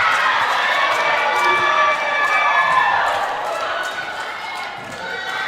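Spectators at a women's college volleyball match between Canadore and Loyalist cheer and shout in a loud, sustained roar that fades a little toward the end, with a commentator talking over it.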